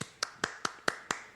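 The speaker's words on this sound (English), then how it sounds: "That's the sound of one hand clapping." Six sharp, evenly spaced single-hand claps or slaps, close and crisp, each a quick isolated snap about a fifth of a second apart, with no talk over them.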